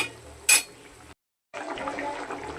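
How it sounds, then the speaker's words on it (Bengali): Water pours into a pot of fish curry with rohu, pointed gourd, potato and papaya: a sharp metallic clank, a brief pause, then a steady rushing splash. "আমি জলটা পরিমাণ মতন দিয়ে দেবো।"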